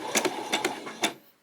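A domestic sewing machine stitches a seam on a skirt, running in short bursts of rapid mechanical whirring separated by brief pauses, fairly close and clear with no talking.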